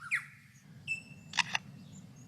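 A forest songbird mimicking a camera shutter, giving a short chirp and thin whistle followed by two sharp mechanical clicks, close and clear against quiet forest ambience.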